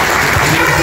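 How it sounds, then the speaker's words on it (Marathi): Audience applause in an indoor hall at a hotel-sponsored gathering in Abu Dhabi, a dense, steady wash of many hands clapping at full loudness with no talk over it. "तर धन्वीन हॉटेलचं पहिल्यांदा आपण सर्वांनी टाळ्या वाजवून कौतुक करूया"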